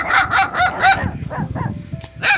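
Several dogs bark repeatedly in a rapid, overlapping series of loud, close barks, with a brief lull before one final bark, outdoors in a village setting.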